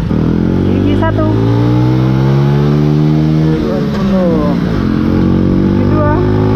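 Honda Little Cub motorcycle engine revving up through a gear, its pitch rising steadily then dropping at a shift before climbing again, loud and close with wind noise.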